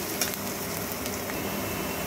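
Chopped garlic, onion and green chillies fry in hot oil with a dense, continuous sizzle and a few small crackles throughout, with no talking.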